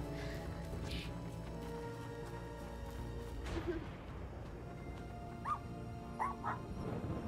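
A dog whimpers and gives a few short yips in the video game Little Misfortune, faint cries standing out near the end over steady game music and ambience.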